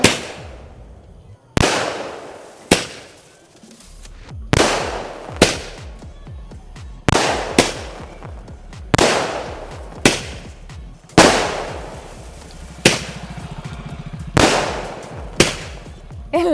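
A 100-shot sky shot fireworks cake set off during a Vishu celebration fires about a dozen loud, sharp bangs in an uneven rhythm, each with a ringing, fading tail before the next shot.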